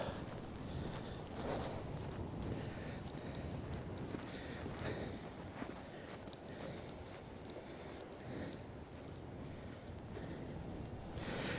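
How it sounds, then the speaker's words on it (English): Steady cold wind buffets the microphone on Coney Island beach in Brooklyn on a snowy winter day, a continuous broadband roar with faint surf-like wash beneath, no voices. "the wind is beginning to pick up and now it's just getting cold."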